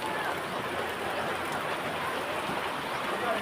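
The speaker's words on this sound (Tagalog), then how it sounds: "Ulan lang kasi." Steady rain falls at a beach resort in Quezon, a dense, even hiss of drops on surfaces that holds constant throughout without pause.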